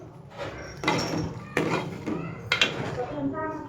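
A spoon scraping and knocking in a pan while aloo palak of boiled spinach, potato and cumin is mixed, three distinct clanks spaced about a second apart over soft background rustle.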